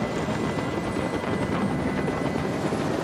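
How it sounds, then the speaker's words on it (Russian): A helicopter hovers overhead during a hostage standoff in the game Detroit: Become Human, making a steady, loud rotor chop and whine that holds constant throughout, with no speech. "Прикажи им, чтобы вертолет убрался!"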